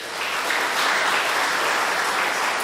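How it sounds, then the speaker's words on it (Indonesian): Steady, dense applause from an audience of civil servants during a Central Java governor's speech, a continuous loud wash of clapping throughout. "Tepuk tangan untuk kalian."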